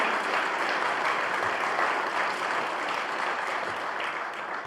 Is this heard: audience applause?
yes